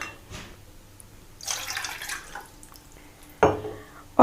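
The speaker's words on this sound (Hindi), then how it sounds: "तो यहाँ पर मैं 2 कप पानी डाल रही हूँ" Water is poured into an empty cooking pan at home: a few uneven splashing bursts and trickles, one longer stretch of pouring in the middle and a sharp splash near the end.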